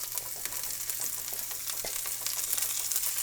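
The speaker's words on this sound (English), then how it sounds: "We're going to add the onions right in." Onions tipped into an oiled pan over medium-low heat fill the space with a dense, even hiss of frying, dotted with small crackles and a soft knock, close and steady throughout.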